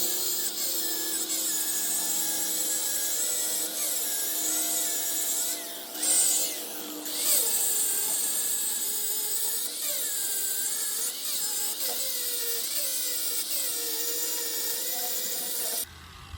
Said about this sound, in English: the solid backing plates with the sanding disc on it works way better than a flat disc